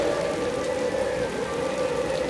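Rain falls steadily in the video game Raw Danger, a dense even hiss with a faint tonal hum underneath and no voices.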